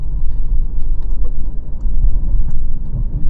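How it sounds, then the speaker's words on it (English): A 2025 Toyota Hilux with automatic transmission pulling steadily while driving, its engine a loud, continuous low drone with road noise and a few small clicks on top. "This engine pulls this heavy car along without even breaking a sweat"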